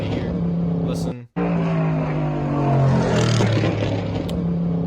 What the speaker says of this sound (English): That's completely off throttle, you know, into the downshifting. You hear the exhaust firing.